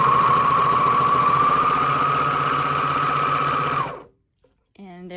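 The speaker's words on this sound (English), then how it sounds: "turn the machine on, and fingers crossed that it makes a beautiful thread chain when I start sewing" A serger sewing machine runs steadily for about four seconds while chaining off a thread chain, a loud continuous mechanical whir that stops abruptly, followed by a brief silence and a voice starting to speak.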